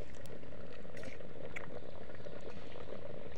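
Rice boiling in a pot on a camp stove at night, a close, steady bubbling and simmering with faint crackles, alone without talk.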